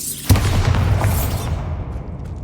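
A single sharp blasting spell, Bombarda, goes off against a barricaded archway in Hogwarts Legacy, a loud near burst followed by a rumbling decay of debris over about two seconds.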